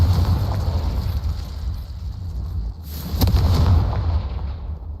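Confringo spell blasts in a Harry Potter-style video game, a loud sustained rumbling roar of explosive bursts with a brief dip before it surges again, no talking.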